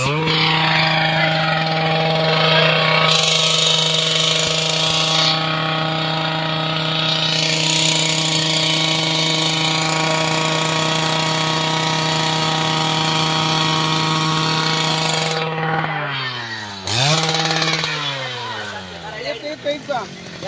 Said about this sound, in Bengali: ডিজিটাল মেশিন দিয়ে প্যান্ডেলের খুঁটি বসানোর জন্য গর্ত করার কার্যক্রম চলতেছে